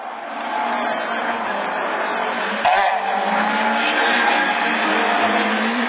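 Rallycross race cars, including a Honda, roar loudly at a division 4 rallycross event, engines droning steadily with a brief sharp burst midway, while a commentator talks over them.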